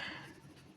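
A pen scratches faintly across paper in a short, soft stroke during a maths lesson, with no voices heard.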